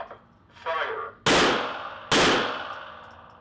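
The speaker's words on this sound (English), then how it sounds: "this type of 2-stage exercise specifies the exact order which shots must be fired" Two loud, close handgun shots fired during a Texas License to Carry training exercise, about a second apart, each sharp crack ringing off, with a faint metallic clatter just before.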